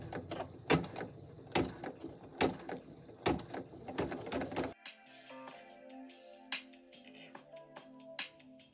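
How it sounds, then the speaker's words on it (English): A home embroidery machine stitches a tack-down stitch on a shaker bag tag, giving a steady, rhythmic mechanical clatter at close range for about half the time, then a softer, lighter ticking texture. "I am going to now press the green button and it's going to stitch"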